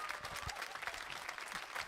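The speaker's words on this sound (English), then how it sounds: "Can we give him a round of applause" A school band concert audience claps briefly for a clarinet player, with quiet, dense applause from a crowd heard at a distance.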